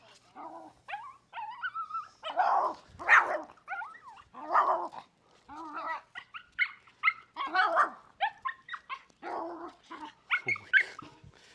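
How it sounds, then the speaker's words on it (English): A dog barks repeatedly in quick, uneven bursts, fairly close, with some growly yips mixed in and no talking. "I'm going to go to the original audio so that you can hear the barking"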